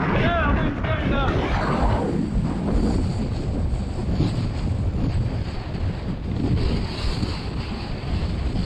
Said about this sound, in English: Gusting to about 30 mile an hour now.